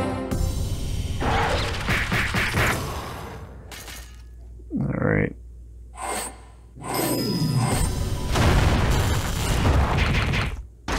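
Empires and Puzzles mobile game attack effects burst in a loud, dense clatter of crashing booms and bangs, like fireworks, pausing briefly before another sustained volley, with no talking.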